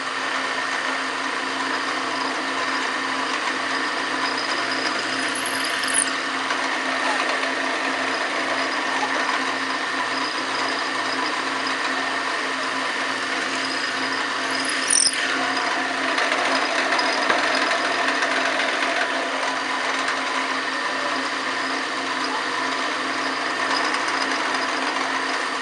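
Close drill press motor whirring steadily as a bit bores ferrule holes through a wooden Telecaster-style custom guitar body, a constant mechanical hum with a couple of brief sharper squeals along the way.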